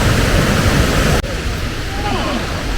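Edessa waterfall in Greece, water falling beneath a stone arch, produces a loud, steady broadband roar throughout, with a brief dip partway through, while people talk nearby.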